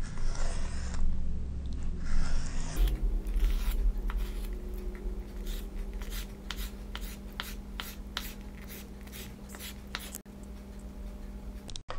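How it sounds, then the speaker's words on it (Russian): Knife dicing herring into small cubes on a cutting board, a rapid series of crisp close chopping taps after an initial stretch of rustling handling noise. "Селедку нарезаем мелкими кубиками."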